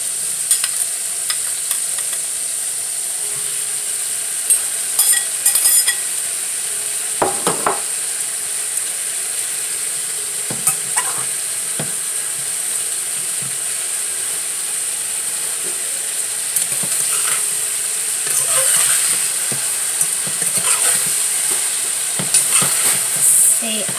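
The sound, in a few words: salted fish frying in hot oil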